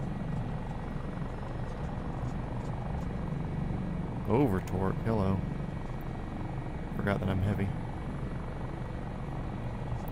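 A helicopter's rotor and engine drone steadily and loudly through the whole stretch, simulated in the video game MSFS 2024 while carrying a slung load, and a person talks over the constant hum.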